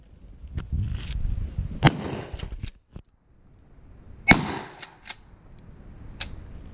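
A 12 gauge Maverick 88 pump shotgun fires at an outdoor gun range: a few sharp, loud blasts spaced seconds apart, each with a short echoing tail, plus quieter clicks and handling noise between.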